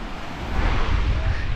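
Sea waves wash onto a resort beach at Belek in March, a broad rushing surf that swells louder partway through, mixed with steady wind buffeting the microphone.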